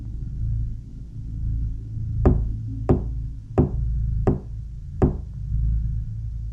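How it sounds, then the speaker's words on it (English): Five heavy knocks, spaced about a second apart, thud over a constant low rumble and hum, with no voices. "then start to hear knocking."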